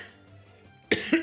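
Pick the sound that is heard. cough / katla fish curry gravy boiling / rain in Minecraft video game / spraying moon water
cough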